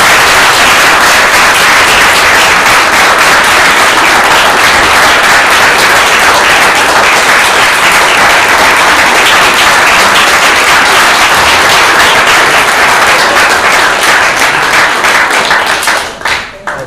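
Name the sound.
audience applause at trial competition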